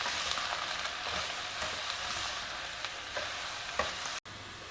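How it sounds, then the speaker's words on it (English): Chopped snake gourd and curry leaves stir-fried in a pan for a South Indian poriyal, a steady close sizzle with intermittent spatula scrapes, then a brief cutoff and a sharp clatter at the end. "Next, add in this chopped snakegourd to it. Also a few curry leaves. Now stir everything well."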